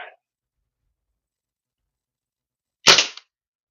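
A single sharp crack from a Kral Arms .22 break-barrel air rifle firing a pellet, loud and close with a brief decaying tail, heard alone after a short quiet stretch.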